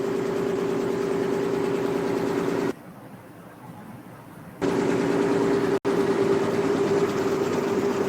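A motor runs with a steady low hum during a motoring test in an engine lab, cutting out briefly midway, then resuming at the same level, plus a short dropout near the end, with no talk.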